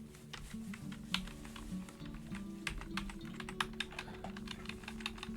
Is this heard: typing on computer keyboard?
yes